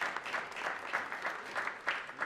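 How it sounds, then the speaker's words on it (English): A small audience at a community board meeting claps steadily for a couple of seconds, scattered hand claps packed into an even, moderately quiet patter. "so please give them a hand of applause."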